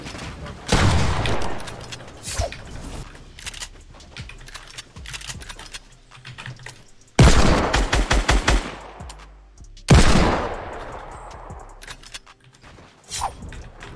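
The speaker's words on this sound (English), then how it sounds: "I'm getting shot by a different person." Fortnite Battle Royale gunfire: bursts of rapid automatic fire and single loud shots, close and punchy, with quieter clicking and pauses between volleys.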